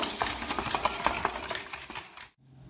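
Four cracked eggs are beaten in a bowl with a hand blender, giving rapid rhythmic clattering and whisking strokes close by that stop suddenly near the end.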